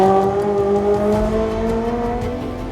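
A Honda Integra Type R DC5 with a 220-horsepower VTEC engine revving while driving, a loud steady in-cabin engine note that rises gradually in pitch with no talk over it.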